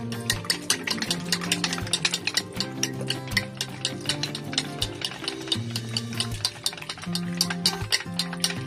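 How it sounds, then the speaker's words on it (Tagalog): Eggs stirred in a cooking pan, Chinese style, give a steady run of quick scraping and clicking strokes over a constant sizzle, fairly close and continuous throughout, with no talking. "Tapos, halo-haloin ko na siya."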